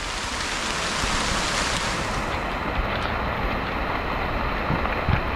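A tropical rainstorm in the open on a stream trail at Madolenihmw, heard as a loud, dense wash of rain and wind noise that stays constant throughout, with no one talking.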